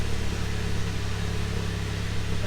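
A Volkswagen MK7.5 GTI with an APR catted downpipe runs at a steady idle, a low continuous engine hum close by with no talking.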